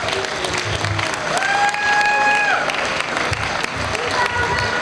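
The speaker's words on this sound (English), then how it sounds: "Give a round of applause," A crowd applauds loudly and steadily at a commemoration event for the Delano grape strike, with a brief whistle-like tone rising over the dense clapping.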